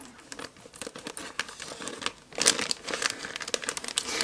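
A toy part from a Schleich 42502 veterinary practice set being unwrapped from its plastic bag, close crinkling and rustling in irregular bursts, louder in the second half, with no talk.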